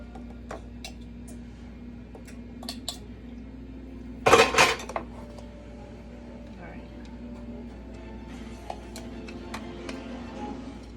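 Keto mini cheesecake mixture being spooned into molds: soft scattered taps and clinks of a spoon on dishes, with one loud clattering knock in the middle, under a quiet room hum.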